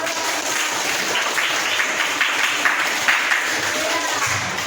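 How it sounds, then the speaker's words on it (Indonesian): A classroom audience claps during a biology lesson, a dense steady patter of hands lasting several seconds at moderate loudness, with a few voices mixed in. "Oke, tepuk tangan."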